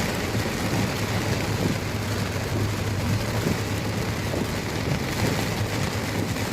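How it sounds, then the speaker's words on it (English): Heavy rain drums on a rental car while driving along the Gulf Coast in Mississippi, a steady hissing roar over a low engine and road rumble, unbroken and close, with no talking. "I just want the rain to be done."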